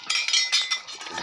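A lid set onto a cooking pot in a home kitchen gives a quick series of light metallic clinks and rattles, close and moderately loud, lasting about a second.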